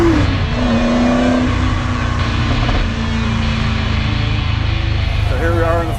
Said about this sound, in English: So here we are in the 427 Ford GT40.